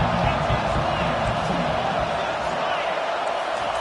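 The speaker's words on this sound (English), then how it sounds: "Here comes the crowd trying to make it tough on 3rd and long." A loud, continuous roar rises from a football stadium crowd on 3rd and long, broad and sustained the whole time, with no voices standing out.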